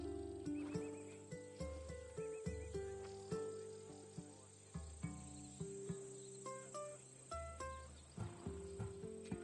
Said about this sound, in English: That horse is from Thessalonia, bred for its courage.